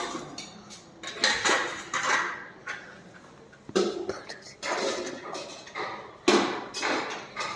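A metal lid and utensils clatter against a pan of greens in a home kitchen, with several sharp close knocks and scrapes spread unevenly across the stretch, separated by quieter gaps.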